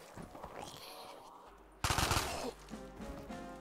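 Rapid gunfire from a weapon in the Black Ops 3 Zombies video game, with a loud burst of automatic shots starting midway and continuing over other busy game sounds.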